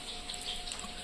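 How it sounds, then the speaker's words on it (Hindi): A little water splashes and trickles into a masala paste of onion, tomato, ginger, garlic, black pepper, cumin and cashew for chilli paneer, a brief, steady pour with no talking. "हल्का पानी देगी"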